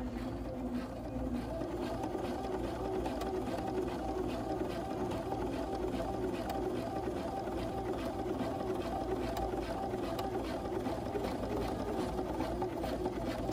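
A sewing machine stitches a gathered blouse sleeve cuff, a steady low mechanical whir running throughout at modest volume with faint background noise.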